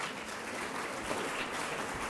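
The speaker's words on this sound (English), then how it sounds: "Let's give her a big round of applause" Audience applause for a primary school student speaker at a speech event, an even, continuous patter of clapping from a crowd, moderately loud with no talk.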